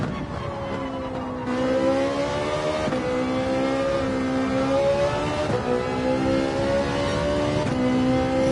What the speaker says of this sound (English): So much fun driving the 458.